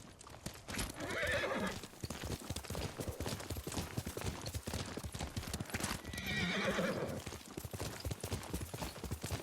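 A horse in Ghost of Tsushima gives two loud whinnies a few seconds apart over a steady clip-clop of hooves.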